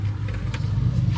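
Power-folding third-row seats in a 2017 Nissan Armada Platinum move slowly, giving a steady, low electric motor hum that stays constant throughout, with no voices over it.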